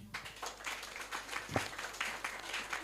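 Applause from an audience at a health talk on infections for nurses, a short burst of scattered clapping that stays fairly steady throughout and is moderately loud.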